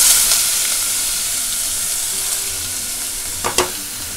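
Garlic, curry leaves and onion frying in a pan for bhendi masala, a steady close sizzle with a couple of brief stirring clinks near the end, no voices.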